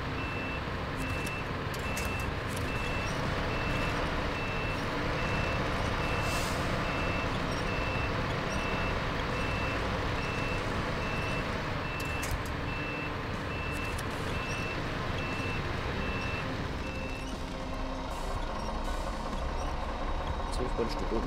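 A truck backing up emits steady, evenly spaced reversing beeps over a continuous diesel engine rumble, the beeping stopping near the end while the engine keeps idling, with someone talking intermittently.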